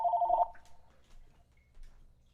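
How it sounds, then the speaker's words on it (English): A telephone rings once, a short electronic trill lasting under half a second near the start of a live improv comedy scene, then fades to quiet room tone. "Well, Dad's got a phone call."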